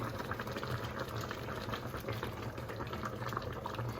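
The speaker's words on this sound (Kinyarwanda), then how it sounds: "urabona ko harimo amazi biriko birabira" Water bubbles and rumbles at a steady rolling boil in a pot of pompano fish soup, close up, continuous with no pauses or voices.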